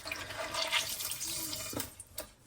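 Water running from a kitchen tap onto dirty plates being left to soak: a close, continuous splashing rush with a brief gurgle near the end, heard alone.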